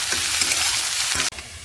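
Potato and bitter gourd pieces hit hot oil in a wok, a loud, dense, close frying hiss that runs continuously and drops away sharply near the end, with no talking.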